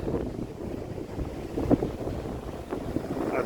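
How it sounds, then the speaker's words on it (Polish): Tyrrhenian Sea waves rolling onto Ostia beach in winter, a low rumbling surf with wind buffeting the microphone and a few brief splashes, no voices. "Fale są dosyć spore"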